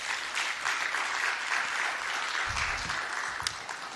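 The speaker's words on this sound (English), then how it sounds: "Let us give a round of applause for Ngawa." Conference audience applauding a panelist at an economic report launch, sustained mid-level clapping from a room full of people, steady throughout with a brief louder clap near the end.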